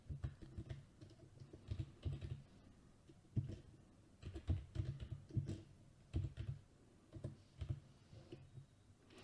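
Quiet computer keyboard typing during work in IntelliCAD drafting software: irregular bursts of soft key clicks with short pauses between runs, close and faint, no voices.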